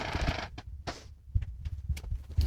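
A dishwasher door opening automatically at the end of its cycle, giving a series of short creaks and mechanical clunks with low thumps, fairly close and moderate in level, with no talking.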